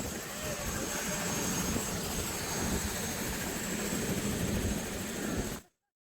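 Loud, steady helicopter cabin roar during a flight over Oahu, with constant engine and rotor drone filling the whole clip before it abruptly cuts to silence.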